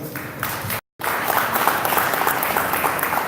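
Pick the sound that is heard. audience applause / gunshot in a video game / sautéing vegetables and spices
audience applause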